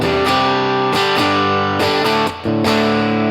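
A Reverend Jetstream 390 electric guitar on its bridge P90 pickup plays strummed chords with bright harmonic sustain, loud and close, each chord ringing into the next with a short gap near the end.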